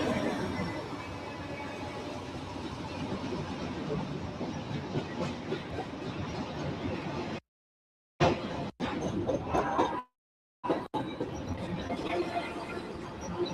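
BNSF freight train hauled by Dash 9 locomotives on a busy mainline, a steady loud rumble of rolling cars with clattering wheels and hiss, continuous and close, broken by two brief dropouts partway through.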